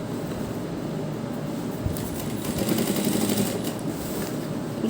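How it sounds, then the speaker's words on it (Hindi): A sewing machine running steadily as it stitches a fabric neckline, a continuous dense mechanical whirr with a fast rattling undertone, close and fairly loud with no pauses. "इसके ऊपर भी हम इस तरह से सिलाई लगा देंगे।"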